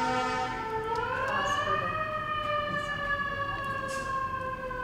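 A wailing ambulance siren passes by, its rising and falling tone steady and fairly loud throughout over a rumbling street background, with no one speaking.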